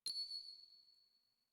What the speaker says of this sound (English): Here, this is his bell.